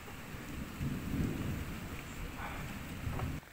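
Thunder rumbles low and loud beneath steady rain during a May 2022 thunderstorm, with heavier swells of rolling thunder before a sudden drop near the end; no one speaks.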